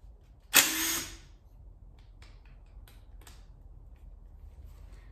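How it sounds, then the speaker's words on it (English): A bolt breaking loose from the over-torqued rear main seal flange of an Audi 2.0T TFSI engine on a teardown: one sharp loud creak, then faint scattered clicks and taps of tools against a quiet background. "So I'm just getting these top two bolts off right now."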